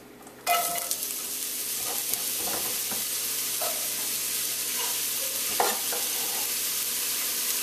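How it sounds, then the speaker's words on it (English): Finely diced onion dropped into warm olive oil in a Dutch pot, bursting into a sudden loud sizzle that continues as a steady bright frying hiss with occasional stirring scrapes, no voices. "right away, since the pot is already warm, I'm going to go in with some onion."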